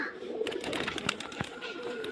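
Tumbler pigeons in Murshidabad, faint distant cooing with brief flutters of wings amid a soft outdoor background, no talking.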